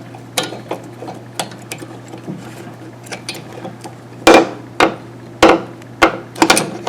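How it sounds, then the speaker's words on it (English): Pliers working a small metal part off a Kohler carburetor, with a series of sharp clicks, snaps and metallic knocks at irregular intervals over a low steady hum. "Now I'm going to take some pliers and get that guy off."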